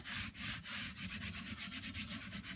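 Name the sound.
hand scrubbing on dried chalk paste design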